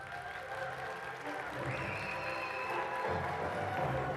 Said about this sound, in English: Ladies and gentlemen, please put your hands together. A warm round of applause, please, for Mr. Andrei Stănescu.